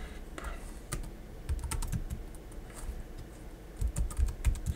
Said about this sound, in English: I'm going to start typing SNMP.